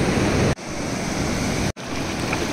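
Strong ocean waves roll in at Agonda beach in Goa, where a powerful current runs. The surf makes a loud, continuous, broadband roar, broken only by two brief dropouts.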